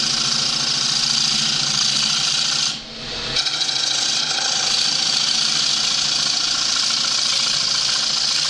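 A wood lathe spins steadily while a gouge turns a bowl, giving a continuous close rasping, rubbing drone with a brief dip in the middle before the cutting noise resumes.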